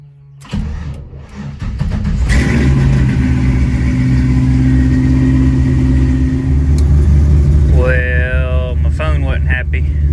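An LS-swapped Chevy II Gasser fires up from cold after sitting for weeks, a starter crank giving way to a loud, steady idle that rises into revs near the end.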